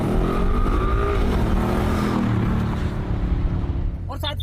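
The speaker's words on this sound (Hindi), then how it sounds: "फिर आपको साउंड भी सुनेंगे गाड़ी का" A Ford Mustang GT engine revs with a steady, rising and falling droning tone that holds loud and close throughout before easing slightly at the end.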